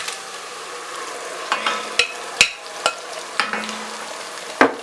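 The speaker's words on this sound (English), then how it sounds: "The tomatoes are cooking." Roughly blended tomatoes cooking over sauteed onions in a pan, a soft steady sizzle broken by several sharp stirring clinks and scrapes of a utensil against the pot, close by with no talking.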